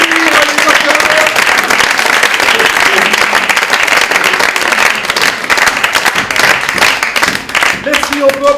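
Loud, continuous crowd clapping from an improvisation match audience carries on throughout, with scattered voices and shouts mixed into the steady wash of applause.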